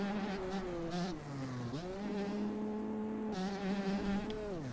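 A 125cc motocross bike in the MX Bikes video game buzzes with a high, nasal two-stroke whine, pitch dipping and climbing as the throttle is blipped and held, loud and close with no talking.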